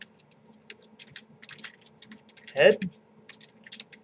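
Someone types HTML code on a computer keyboard in quick, light, irregular bursts of key clicks, close and quiet, with a single word spoken partway through.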